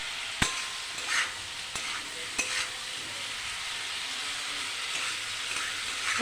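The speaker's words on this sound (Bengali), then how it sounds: "এবার আমি ভালো করে ভেজে নেব।" Rohu fish curry ingredients, seasoned with salt and turmeric and cooked with new winter potatoes and cauliflower, fry in a pan with a steady close sizzle, broken by a few sharp clinks of stirring.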